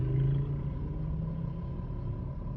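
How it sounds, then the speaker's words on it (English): A school bus drives past a box truck, heard from inside as a low continuous rumble of engine and road noise, fairly faint and steady, with no talk. "Oh, it's that school bus."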